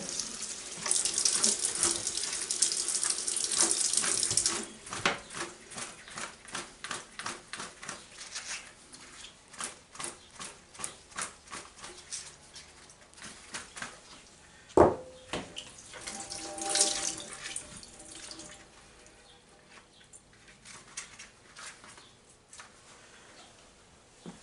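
A vacuum's HEPA filter is rinsed under a running faucet: a steady splashing gush of tap water that breaks into uneven spatters and drips as the filter is turned, with a brief louder knock midway, close by and with no talk.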